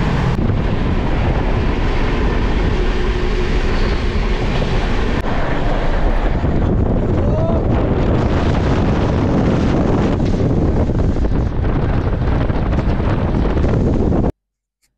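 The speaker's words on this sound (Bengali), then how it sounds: "এখন উড়িষ্যার ওপর থেকে ট্রেন যাচ্ছে।" Amravati Express running through Odisha, heard from inside as a loud, continuous rumble and rush of wheels and wind that stays constant, then cuts off abruptly near the end.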